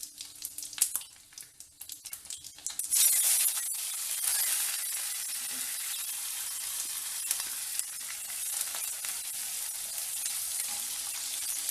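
Fenugreek, cumin, pepper and asafoetida hit hot oil for a balloon vine leaf thokku, a few scrapes and crackles giving way to a loud, steady sizzle that carries on close up with no voices.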